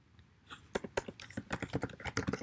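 Quick, uneven keystrokes on a computer keyboard while code is typed, starting sparse and then running into a busy patter of clicks, close and fairly quiet.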